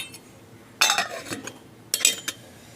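A metal lid clatters onto a pot in a home kitchen while buttermilk is prepared, two short, bright clinking rattles about a second apart, close and fairly loud against a quiet room.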